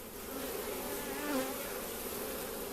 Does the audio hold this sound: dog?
no